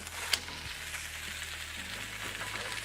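A JUST Egg vegan omelette sizzles steadily in a pan while being flipped, with a soft, even crackle and one brief clatter near the start.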